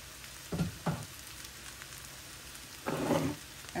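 Spinach pulao with powdered milk fries in a pan, giving a faint steady sizzle with a few short, soft bursts of stirring or spattering near the start and a longer one toward the end.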